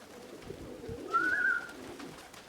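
A pigeon coos once at a pigeon cage, a soft rising call over a low background murmur, fairly faint and close.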